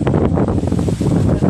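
Strong wind on a red bridge where a flag hangs: a loud, steady roar of gusts buffeting the microphone, broad and continuous with no voices.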